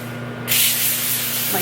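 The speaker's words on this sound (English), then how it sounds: "really light coating of coconut oil spray" A short burst of coconut oil cooking spray hisses steadily for about a second, close and fairly loud, over a low background hum.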